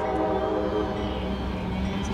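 A Norfolk Southern intermodal freight train carrying piggyback trailers rolls past close by with a loud, continuous rumble and a steady metallic drone. The sound holds level throughout, with no gaps.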